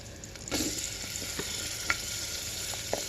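Onion pieces and green chillies fry in hot oil for radish sambar, a steady close sizzle with a few light clicks of a spoon stirring the pan.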